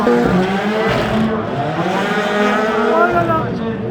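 Sébastien Ogier's famous rally car drives past, a loud engine roar with rising and falling pitch over about four seconds, while voices talk over it.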